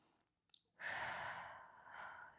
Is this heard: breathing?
yes